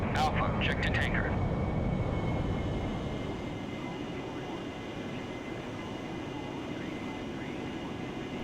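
AV-8B Harrier jet engine in the DCS flight simulator game, a continuous loud roaring whine that settles slightly quieter after a few seconds, with a few short electronic tones at the start.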